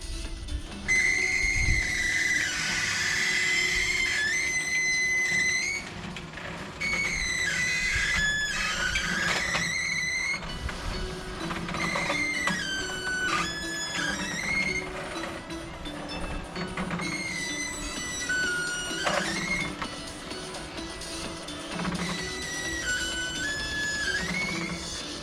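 An electric shutter gives off a faint, shrill abnormal squeal that wavers in pitch, recurring in stretches over a low mechanical rattle and hum, heard from close by.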